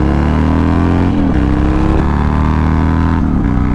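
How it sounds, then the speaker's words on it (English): Harley-Davidson motorcycle launching hard, its engine loud and close as it revs in a sustained roar, pitch dropping briefly at shifts before climbing again. "So this is unfortunately my last run on the Harley."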